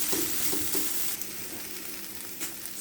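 Ground coriander, cumin, jeera, sage and turmeric fry in a pan with a soft continuous sizzle and hiss, a few light stirring scrapes rising over it, fairly quiet and without speech.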